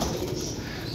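Pigeons coo softly nearby in a short, low, murmuring call over faint background noise, with no talking.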